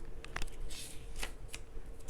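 Pages of an A6 ring-bound paper planner flipped quickly, giving a few soft papery riffles and flutters, close and fairly quiet, with no talking.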